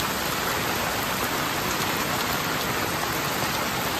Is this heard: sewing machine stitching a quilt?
no